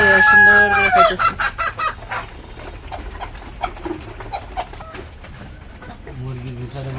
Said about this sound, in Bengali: এই যে মুরগি খাবার খাইতেছে, সবগুলা গুলো সুন্দর করে খাইতেছে।